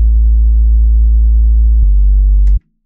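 A synth sub bass part in an electronic music track sustains one deep, loud, smooth low note, shifts slightly lower partway through, then cuts off abruptly, with nothing else playing.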